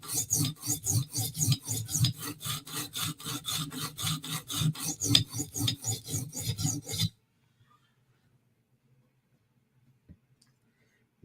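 A knife blade is worked across a sharpening stone in steady rhythmic rasping strokes, about three per second, close and clear, then it stops, leaving near silence with a faint tap.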